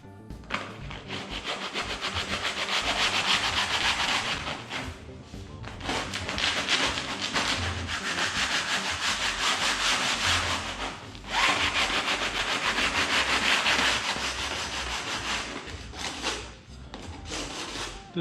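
Sandpaper strips on a flat block are rubbed over an aluminum skin part of an aircraft tailcone, making long, steady, rasping strokes. The sound is close and fairly loud, with brief pauses between passes.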